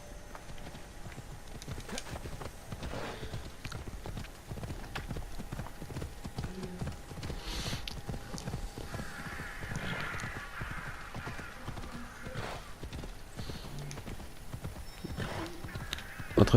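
Horse galloping in Assassin's Creed Odyssey, a steady, fast run of hoof clip-clops over rough ground that continues the whole time, with an occasional whinny and game ambience behind it.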